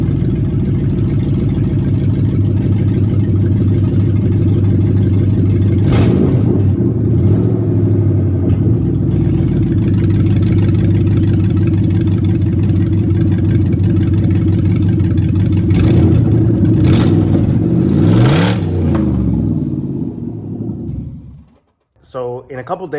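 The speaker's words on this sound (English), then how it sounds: "The car is running" A Subaru BRZ swapped with an LS3 V8, burning off leaked oil on the headers, runs with a loud steady deep rumble, rising into a few revs before shutting off at the end, with talking nearby.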